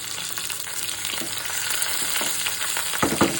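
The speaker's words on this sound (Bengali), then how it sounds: "রসুনটা পেস্ট একটু ভাজা ভাজা হয়ে গেছে" Garlic paste fries in oil with panch phoron, dried red chilies, bay leaves and chopped green chilies, giving a continuous close sizzle with a few louder stirring scrapes near the end.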